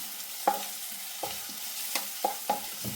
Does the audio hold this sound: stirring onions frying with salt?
yes